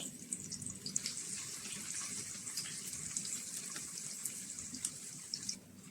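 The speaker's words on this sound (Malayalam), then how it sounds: "എണ്ണ മൂത്ത് വന്നിട്ടുണ്ട് കട്ട് ചെയ്തേക്കാണ് വെളുത്തുള്ളി ഇട്ട് കൊടുക്കാം" Chopped garlic sizzles steadily in hot oil for a Kerala-style lemon pickle, a dense continuous hiss with brief crackles and pops running throughout, fairly faint and with no talking.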